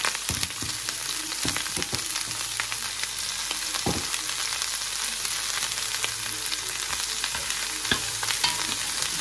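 Bell peppers fry in oil in a pan during ratatouille cooking, giving a steady, close sizzle with occasional clicks and scrapes from stirring and no talking.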